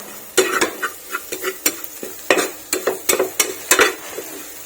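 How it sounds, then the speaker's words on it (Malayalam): A spatula stirs masala in a pan in a quick, irregular run of loud scrapes and clacks over a light sizzle, close up and with no voices. "ഇനി നന്നായിട്ടൊന്ന് ഇളക്കി യോജിപ്പിച്ചെടുക്കുക. മസാല ഒക്കെ എല്ലാവിടെ എത്തണം."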